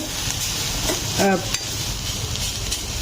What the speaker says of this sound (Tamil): இந்த வெங்காயம் வதங்கி வரட்டும்.